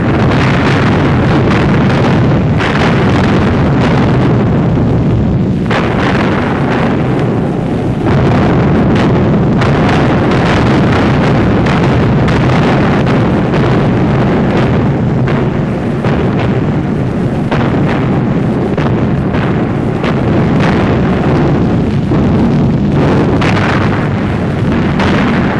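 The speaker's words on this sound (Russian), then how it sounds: "Началась генеральная атака! Грозный бог войны, артиллерия!" Artillery fire in a battle at Stalingrad, 1943, forms a continuous loud roar of blasts and rumbling detonations, dense and distorted like an old film soundtrack, with no talk.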